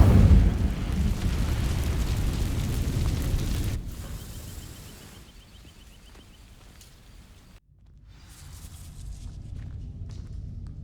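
An Incendio fire spell cast in Hogwarts Legacy, a loud rushing burst of flame and rumble that fades out, followed by quieter footsteps and a soft thud in a hidden herbology corridor.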